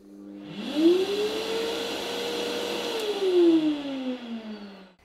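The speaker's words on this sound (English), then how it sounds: "the vacuum cleaner in order to switch on" The vacuum cleaner on a FRITSCH A22 dry dispersion unit starts up and runs with a steady motor whine for several seconds, rising in pitch, holding, then winding down toward the end, heard alone.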